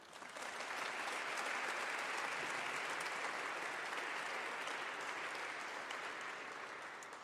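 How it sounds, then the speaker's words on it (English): Sustained audience applause at a university lecture event, steady and dense from start to finish, a broad wash of many hands clapping with no voices rising above it. "Please give a big round of applause to Dr."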